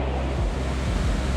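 Victoria Falls on the Zambezi, one of the most powerful waterfalls on the planet, a dense, steady low roar with heavy mist drifting like pouring rain, loud and constant with no break.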